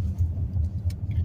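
A single car speeding along a dirt back road, its low engine rumble steady and moderately distant, with faint rattles over the top.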